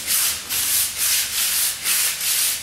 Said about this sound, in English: So just take 100 grit sandpaper and make sure you cover everything.